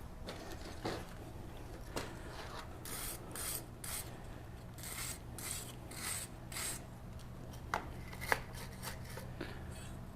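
A forged steel knife blank is scrubbed with a brush at an anvil in a blacksmith shop, giving repeated rough scratchy strokes in an irregular rhythm, with a couple of sharp metallic ticks, close and fairly quiet.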